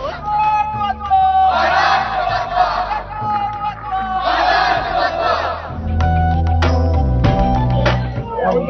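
A large crowd of fort devotees celebrating at Raigad fort shouts and chants together in loud rising waves, with bursts of collective cries and a lively, echoing din that carries across the whole stretch.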